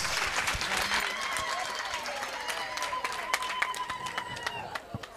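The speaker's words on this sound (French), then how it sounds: "Les applaudissements, ce n'est pas fort." Applause from a workshop audience, a lively run of clapping with some crowd noise that thins toward the end, with a voice speaking over it.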